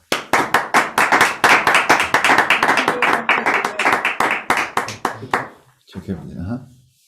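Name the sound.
applause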